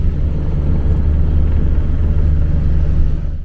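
A minibus driving in Albania rumbles with a loud, continuous low engine drone, close by and steady for the whole stretch.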